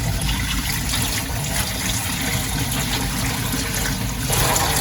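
Pasta cooking water pours through a small kitchen sieve while spaghetti is drained, giving a steady, close splashing gush that runs on without a break.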